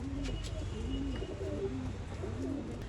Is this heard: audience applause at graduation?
no